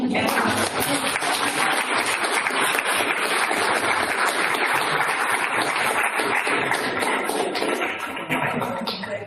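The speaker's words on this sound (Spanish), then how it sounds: "vamos a darle en este momento un aplauso" Sustained applause from an audience at a legal update gathering, dense and steady for about nine seconds before easing slightly at the end.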